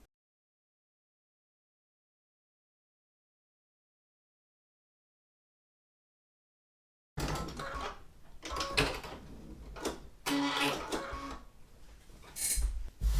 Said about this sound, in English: now I'm going to sew straight along here